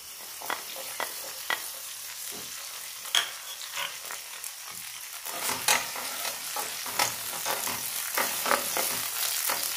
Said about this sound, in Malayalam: ചൂടായ വെളിച്ചെണ്ണയിലേക്ക് വെണ്ടയ്ക്ക ചേർക്കാം.